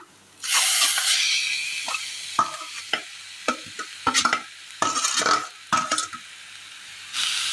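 Spring onion stalks are stirred into a mixture in a frying pan for a Kerala recipe, with soft sizzling and a series of scraping utensil strokes against the pan in irregular bursts.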